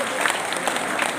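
Applause from a crowd at a Balinese temple festival, greeting a gong kebyar ensemble: a steady patter of many hands clapping at moderate loudness, with some voices mixed in.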